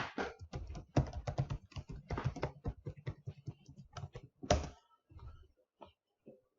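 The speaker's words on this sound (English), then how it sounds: "This should prompt me to type the user ID and password." Computer keyboard typing a user ID and password: a brisk run of light, close key clicks in uneven bursts, with a final heavier tap and a few scattered strokes trailing off, no voices.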